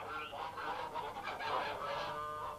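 Several park geese honk repeatedly in an overlapping, uneven chatter, moderately close but fairly quiet, with no voices over them.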